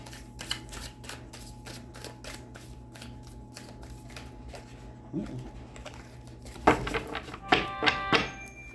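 Tarot cards are shuffled with a rapid riffling patter, then a few soft thumps and taps as they are squared, quiet and close.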